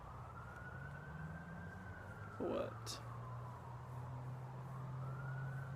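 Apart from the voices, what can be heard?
police car siren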